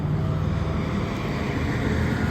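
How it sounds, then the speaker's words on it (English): Rush hour traffic on Sunrise Highway in Merrick, New York, a steady, dense low roar of passing vehicles that holds evenly throughout with no clear breaks. "There's a lot of traffic right now. And right now it's rush hour."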